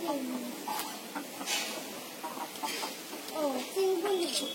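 Rooster and chickens cluck in a backyard flock, several short calls and crows scattered over a few seconds at moderate distance, with faint voices mixed in.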